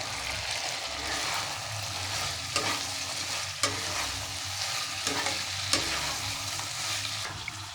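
Chicken pieces with capsicum and onion sizzle loudly in a hot pan for chilli chicken, a steady frying hiss broken by a few sharp clacks of a spatula stirring against the pan.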